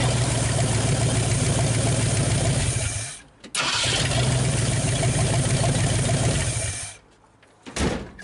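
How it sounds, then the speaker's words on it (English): A 1959 Ford Galaxie Fairlane 500, running for the first time in years, idles steadily with a lifter tapping in the engine. The sound is loud and close, with two brief drops in level before the idle resumes. "Still hear a lifter tapping"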